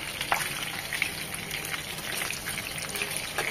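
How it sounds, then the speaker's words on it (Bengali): Hilsa fish frying in oil in a pan, a steady, close hiss and crackle with scattered small pops throughout. "জাস্ট 1 মিনিট করে একটু একটু ভেজে নেব, তো ঘুরেও কড়া করে ভাজবো না।"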